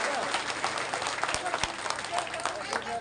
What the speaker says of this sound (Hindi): एक बार जोरदार तालियों से स्वागत और अभिनंदन।